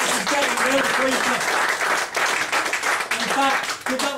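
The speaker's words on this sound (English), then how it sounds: "give her a round of applause" Audience applause for a volunteer after a card trick at a magic show, a steady broadband wash of many hands clapping throughout, with a voice talking over it.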